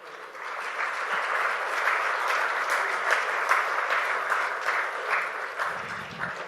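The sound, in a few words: audience applause welcoming the chief guest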